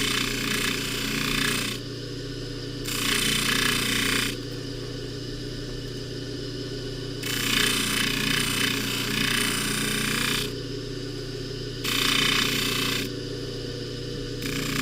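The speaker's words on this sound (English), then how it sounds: "And just buffing it real lightly, nothing crazy" A polishing buffer spins steadily at low speed while a necklace is buffed lightly against it, a continuous motor hum with brighter scuffing bursts each time the piece meets the wheel.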